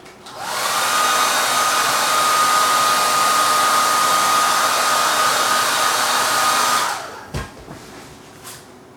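Hair dryer blowing heat over a watercolour painting, a loud steady whoosh that starts abruptly, holds for about six seconds, then cuts off, followed by a few faint knocks and handling sounds.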